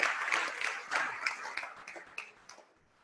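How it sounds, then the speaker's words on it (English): Audience applause during an anniversary talk, scattered claps that fade out over a few seconds, fairly faint. "Round of applause for my wife"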